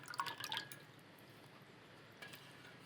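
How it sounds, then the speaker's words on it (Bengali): Soaked rice is lifted out of water with a few faint, close drips and trickles at the start, then a quieter drip near the end in a hushed room. "জল থেকে ভাত তুলছি"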